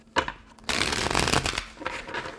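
Tarot cards are shuffled by hand in quick riffling bursts, close and fairly loud, with a short tap before a longer flurry of shuffling.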